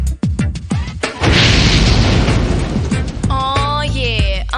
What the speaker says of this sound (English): escaping gas can cause a big explosion